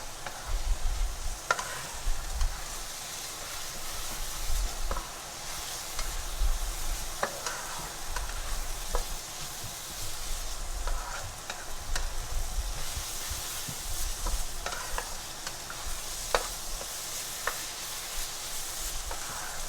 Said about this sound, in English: turning this rice, frying it until all that herbs and spice is absorbed into the rice and it becomes dry